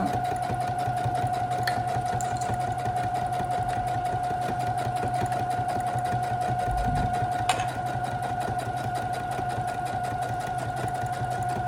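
A sewing machine set to stitch length 3 runs steadily, stitching a shoulder bag about 1 cm from the edge with a continuous close, loud mechanical whir and rapid needle rhythm, no talking.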